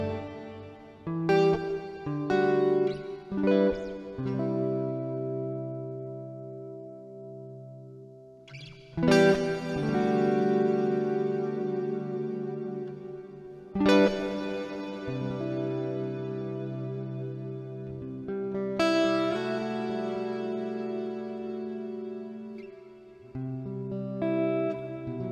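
Electric guitar through a Fender Marine Layer reverb pedal with the filter switched off, giving a metallic tail: a few separate strummed chords and picked notes, each ringing out and decaying into reverb, alone and fairly clear.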